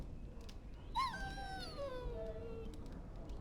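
A dog in the fantasy game Dragon Age Origins lets out a single drawn-out whimpering whine that starts sharp and high, then slides slowly downward and fades, heard alone over quiet background.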